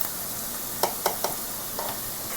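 Onion and green chilli frying in a pan for biryani masala, a steady hiss of sizzling oil with a few sharp spits and pops standing out at moments, no voices.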